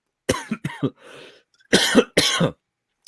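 Several harsh, close coughs from a man on a call-in news discussion show, coming in quick bursts with a short throat-clearing rasp between them and silence after.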